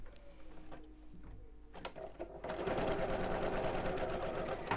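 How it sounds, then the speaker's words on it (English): A sewing machine stitches a dart on viscose fabric, starting after a few soft handling clicks and then running at steady speed in a rapid, even mechanical rattle for the last couple of seconds, close and fairly loud. "we're going to sew across here, always from the outside of the fabric along to the point"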